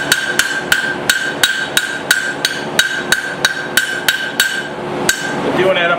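A hammer rings on hot metal over an anvil block while forging a tiny hammer, roughly fifteen sharp, evenly spaced metallic strikes landing loud and close, with a brief scraping rustle at the end.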